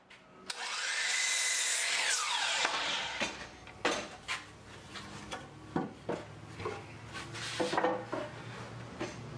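A power saw cuts 2x4 lumber to 48 inches for a workbench, one loud whining cut spinning up and then winding down, followed by scattered knocks and clatter of handling wood.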